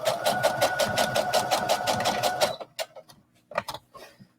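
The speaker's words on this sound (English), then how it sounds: "What I'm actually going to do now is I'm going to sew a rectangle around my elastic." A sewing machine runs a fast, steady stitch for about two and a half seconds while sewing a rectangle around sports bra elastic, then stops, leaving a few light clicks and handling noises.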